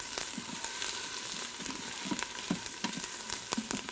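Food fries in a little oil in a pan, a steady close sizzle broken by soft scraping knocks from a stirring utensil every half second or so.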